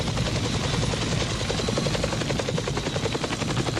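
Helicopter flying over the Mekong Delta in Vietnam, its rotor chop a steady, loud, dense pulsing throbbing throughout with no voices.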